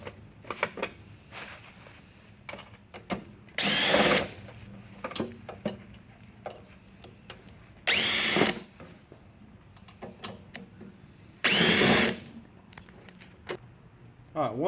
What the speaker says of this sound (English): take the screws out of the trays on the top